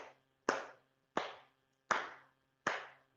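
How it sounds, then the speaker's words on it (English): Four slow, sharp hand claps at an even pace, close and crisp, each ringing out briefly in a quiet room. "hand clap for this offensive line"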